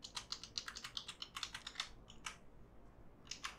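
Quick, steady keystrokes on a computer keyboard as a folder name is entered, a close rattling run of clicks that thins out near the end, with no voices.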